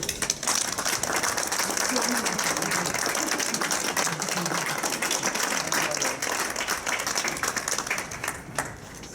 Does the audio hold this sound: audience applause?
yes